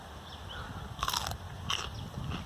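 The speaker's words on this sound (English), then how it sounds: "I'm gonna eat one of those in front of y'all and make you jealous." Two close, crisp bites into a fresh, sweet sugar snap pea picked in a garden, each a short crunchy snap followed by quiet chewing against faint outdoor background.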